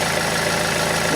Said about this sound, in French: On fait tourner le moteur au ralenti.